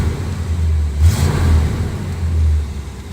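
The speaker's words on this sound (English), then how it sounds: "Give it a little rev." A 1979 Chevy Corvette engine close by gives a few quick throttle blips. The mid-pitched rumble swells and falls in short bursts over a steady idle, with no talking.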